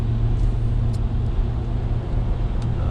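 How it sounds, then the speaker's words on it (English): Road traffic passing on a busy morning commute, a steady low rumble of car engines and tyres with faint brief clicks on top, continuous and moderately loud without talk. "There's a lot of darn traffic out here on the road."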